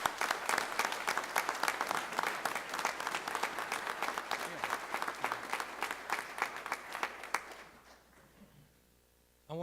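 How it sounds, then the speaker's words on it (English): Big round of applause from a crowd at a homecoming gathering for National Guard families, sustained and fairly loud for about seven seconds before tapering off to quiet. "how about a big round of applause for everybody?"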